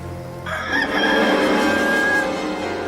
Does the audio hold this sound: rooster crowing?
yes